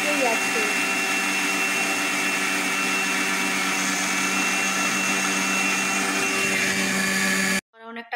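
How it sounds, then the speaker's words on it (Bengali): A mixer grinder grinds flattened rice into powder with a loud, steady whirring drone that runs unbroken for several seconds and then cuts off abruptly near the end. "এই যে আমি গুঁড়াচ্ছি খাবারটাকে মিক্সচার মেশিনে"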